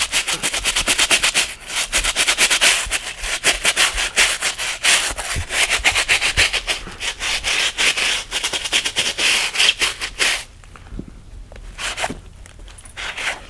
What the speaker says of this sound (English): You're just going to dip the brush in and scrub.